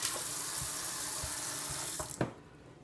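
Tap water running into a kitchen sink while rinsing cube steaks, a steady splashing hiss that cuts off abruptly near the end with a few clinks.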